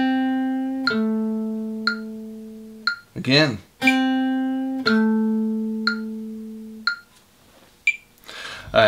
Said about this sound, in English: with the metronome, it's gonna sound like this